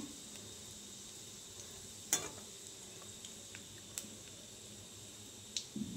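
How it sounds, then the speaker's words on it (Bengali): Cumin seeds temper in a small amount of hot oil, giving a faint, steady sizzle with a few soft pops and crackles scattered through it, and no one talking. "দিয়ে দেবো একটু জিরে ফোড়ন।"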